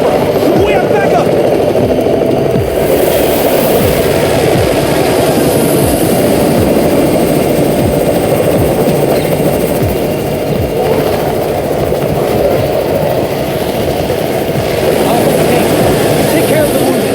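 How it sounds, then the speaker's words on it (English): A helicopter in the zombie video game Undawn thunders close and loud with steady rotor chop and engine roar throughout, while voices talk over it. "It's the Raven's chopper!"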